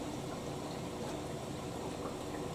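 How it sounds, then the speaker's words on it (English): A Fisher & Paykel WD8060P1 washer dryer fills with water during a 90 °C drum-clean cycle, a faint, steady rushing hiss with a low pump hum underneath, unbroken and without voices. "We'll get to see how the machine actually fills the water now."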